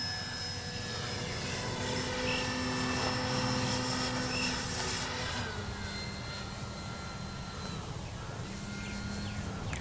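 An E-flite Timber RC airplane flies overhead, its electric motor and propeller giving a steady droning whine that stays fairly constant and slowly shifts pitch as it passes, with no talk.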